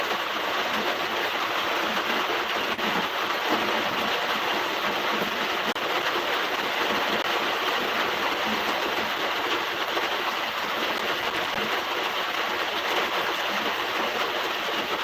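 Heavy monsoon rain pours in Konkan over a road flooded like a river, making a loud, constant rushing roar of water that never lets up.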